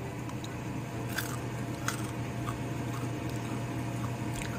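Crisp bites and crunching from close by as deep-fried baby crab is eaten, a few sharp crackles over a steady background hum, with no talking.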